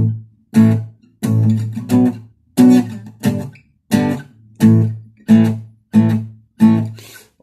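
Acoustic guitar playing the second verse of a song, a clear close run of strummed chords in a steady, evenly spaced rhythm with short gaps between strokes, played alone with no voices.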